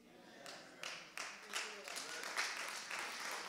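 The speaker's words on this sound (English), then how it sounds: "I can do something with those eight hand claps" A church congregation clapping hands in a steady count of about seven or eight claps, with a murmur of voices and room echo underneath.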